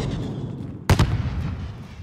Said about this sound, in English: Fire in the hole!